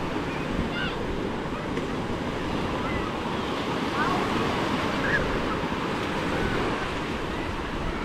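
Ocean surf washes onto the shore in a continuous, rolling hiss, with some wind noise over the microphone.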